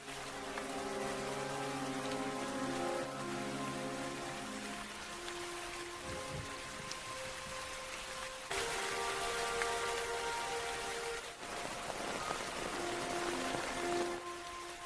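Steady rain falls throughout, a dense continuous hiss of drops on surfaces with no voices, holding loud and even for the whole stretch.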